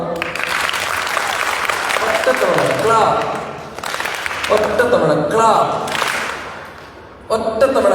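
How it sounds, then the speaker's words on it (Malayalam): A church gathering audience claps in several loud bursts of hands, separated by short pauses, with a person talking over and between the rounds. "ഒരു തവണ ഒന്ന് കൈയടിക്കാമോ?"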